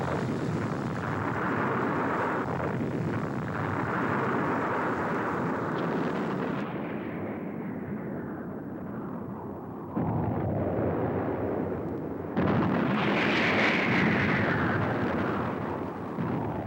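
Heavy bombing airstrikes on the Ho Chi Minh Trail: sustained rumbling explosions roll on and off in long waves, with a sharp new burst near the end and a high whine over the blasts.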